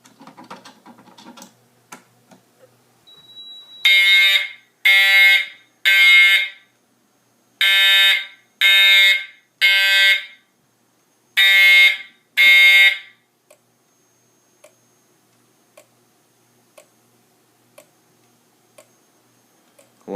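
A loud fire alarm sounds during a system test in three rounds of three harsh, buzzing blasts, a temporal pattern separated by silences, with faint ticking before and after.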